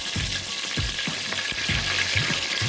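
Two bay leaves sizzle in about two tablespoons of hot oil in a pan for a vegetable biryani, giving a continuous bright hiss with soft low bumps from the pan, close by and with no talking.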